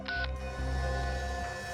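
Telephone tones on a landline during a call: a short bright dialing beep near the start, followed by steady, fairly loud tonal hum and line noise with no talk.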